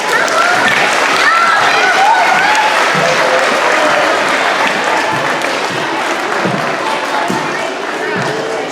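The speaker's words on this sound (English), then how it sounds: "Now let's give a round of applause to Mrs. Fritchie and Mr. Linsbrown for making this skit happen." A school audience at a student program gives a loud, full round of applause, dense clapping mixed with crowd noise and some cheering, with voices heard through it.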